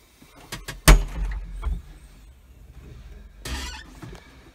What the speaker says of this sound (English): go ahead and open the door, Jet.